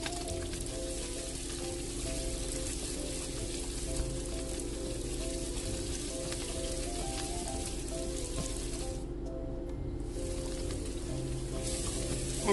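Garlic and onions sautéing in a pan for a simple Filipino vegetable dish, giving a steady, close, even sizzle like light rain that carries on without pause and with no voices.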